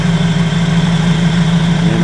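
A Ready Welder II welding unit, run from a vehicle's engine, idles with a steady, loud low hum and even vibration, unchanging throughout with no breaks.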